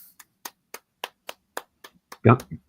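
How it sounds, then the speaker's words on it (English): One person claps their hands about ten times in an even, sharp rhythm, close and distinct against quiet, during a morning tailgate sports talk show. A voice speaks briefly at the end. "That's why I was clapping."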